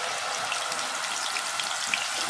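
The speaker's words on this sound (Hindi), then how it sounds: "अभी हम प्याज डाल देते हैं इसमें।" Ground onions hit hot oil already flavoured with garam masala while a fish green masala curry is cooked. A dense, even frying hiss holds steady throughout, with faint pops here and there.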